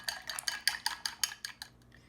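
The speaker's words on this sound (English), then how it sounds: "I'm using a chopstick because I want to cut actually the egg white section so well beforehand and start mixing" Quick rhythmic clicking as a chopstick whisks raw eggs against a bowl, about a dozen bright taps in steady succession, close and fairly faint, fading out at the end.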